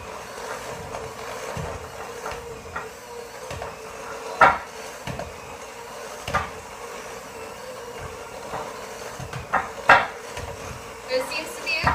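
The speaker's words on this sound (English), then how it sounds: "So I'm going to give this the last mix." A spoon stirs a thick frosting of powdered sugar and milk in a bowl, making scattered scraping knocks and clinks against the bowl, some sharp and some soft, over a quiet background murmur.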